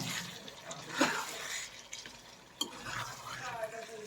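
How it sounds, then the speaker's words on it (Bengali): Broiler chicken pieces sautéing in a pan in their own released juices, with a soft continuous sizzle and occasional stirring scrapes and clinks close by. "মুরগি থেকে যে পানিটা বেরিয়েছিল সেটা দিয়ে মাংসটা কষিয়েছি"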